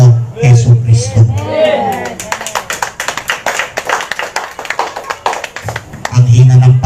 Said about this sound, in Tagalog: Ang hina ng palakpak niyo sa Panginoon.